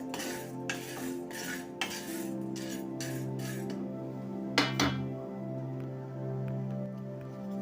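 Wheat grains being dry-roasted in a pan for methkut: repeated metallic scrapes and clinks of a spoon stirring against the pan, fairly close, over a steady low background hum.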